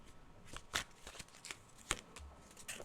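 Tarot cards riffle and slap softly in a close shuffle, a series of quiet irregular flicks and taps before a card is drawn.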